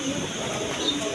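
Pigeons at a breeder's farm make faint, steady low cooing beneath a broad noisy hiss of the loft, continuous through the short stretch.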